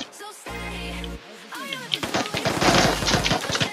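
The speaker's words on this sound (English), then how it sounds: "Shot him again." Gunfire from the military shooter game Squad: a burst of rapid automatic shots and sharp rifle reports crackles loudly through the second half, after a tonal hum and a short voice earlier.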